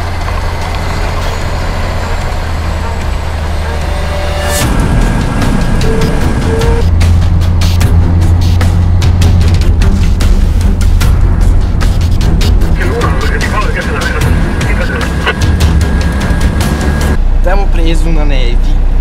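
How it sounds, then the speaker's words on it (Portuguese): A bus and trailer rumble heavily as they drive off the road onto snow toward a glacier in Iceland, a loud continuous low engine drone with crunching and clatter. Voices talk over it. "um ônibus e um trailer, todos juntos, para fazer essa coisa que leva a gente para dentro do glaciar"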